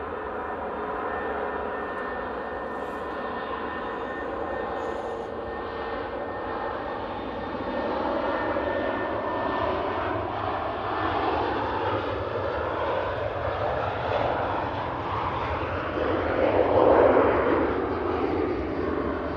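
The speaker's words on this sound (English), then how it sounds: "try to get this Ryanair out before the next arrival" A Ryanair jet airliner takes off at Manchester Airport, its steady, broad engine roar building gradually and peaking loudly near the end as the aircraft passes close by.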